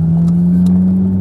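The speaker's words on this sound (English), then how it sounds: "Here's revving." A manual-transmission car's engine revs in a steady, loud, close drone with a strong constant hum and no voices over it.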